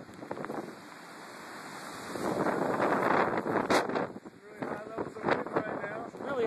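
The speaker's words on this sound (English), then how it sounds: "The wind's really picking up." Strong hurricane wind buffets the microphone outdoors as a continuous, loud rushing roar that swells and gusts, with a voice speaking faintly under it.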